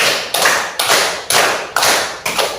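A classroom group clapping in unison, five crisp, loud claps in an even rhythm about half a second apart, with no voices.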